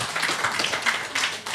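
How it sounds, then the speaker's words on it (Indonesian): An audience claps at a talk or panel event, a brief burst of dense, fairly loud applause with overlapping hand claps lasting just over a second. "Sekali lagi tepuk tangan biar tambah semangat."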